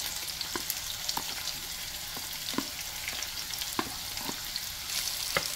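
Onions and tomatoes hit hot oil in a pan for Jamaican callaloo, giving a steady close sizzle with soft clicks and scrapes of stirring, no voices over it.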